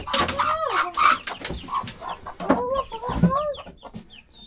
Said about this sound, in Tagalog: Buang gani ng mga manok.